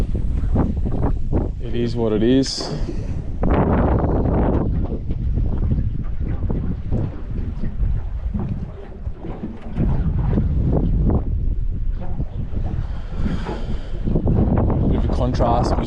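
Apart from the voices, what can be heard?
wind blowing against a fishing boat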